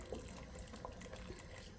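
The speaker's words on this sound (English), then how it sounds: "slowly stir the pot like this while pouring in the tapioca starch mixture" A tapioca starch mixture is poured into a pot of mung bean dessert while it is stirred, giving a soft, faint, steady liquid trickle and swish throughout.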